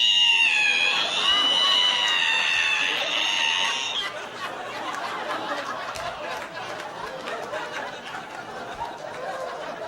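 At a stand-up comedy show, a voice imitates a squeaky ironing board being opened with a shrill, creaking screech for a few seconds, followed by crowd chatter and laughter.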